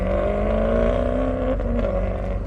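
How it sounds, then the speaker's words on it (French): Sports cars such as Ferraris and Porsches accelerating from a standing start at a supercar gathering in Ambérieux d'Azergues, France; a loud, steady engine drone rises in pitch as one car pulls away, with no talk. "c'est sympa parce que tu peux voir de belles accélérations"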